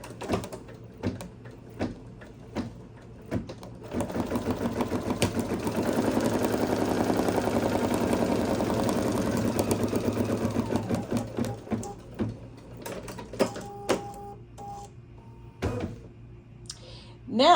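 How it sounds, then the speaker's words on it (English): A Kimberbell embroidery sewing machine stitches, with scattered clicks and knocks at first, then a loud continuous rapid needle rattle for several seconds, then more intermittent mechanical clicks and whirs. "Okay, now let's stitch it down."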